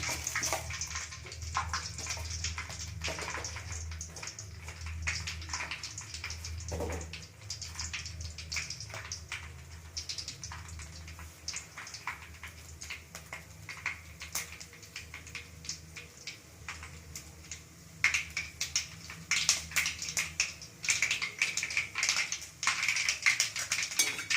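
Mustard seeds splutter in hot oil in a pan, a continuous crackling hiss with scattered sharp pops that grow busier toward the end.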